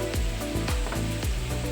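Potatoes for jeera aloo frying in a pan, a steady close sizzle broken by several sharp scraping or stirring knocks at roughly even intervals.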